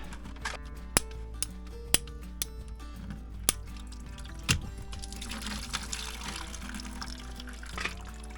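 Water drips and trickles from a whole house water filter housing in a crawl space, with sharp intermittent clicks and plastic knocks over a faint steady hiss, close and quiet.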